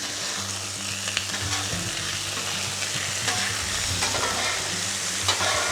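Half-pound burger patties sizzle loudly on a hot flat-top griddle alongside bacon fat, a steady crackling hiss with occasional sharper pops and scraping stirs, no voices present.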